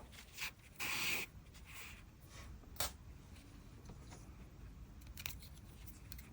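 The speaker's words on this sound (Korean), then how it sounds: "실 잘라주세요" Scissors snip through crochet yarn in a few short, crisp cuts up close, with quiet pauses between them.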